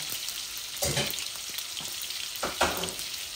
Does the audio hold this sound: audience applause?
no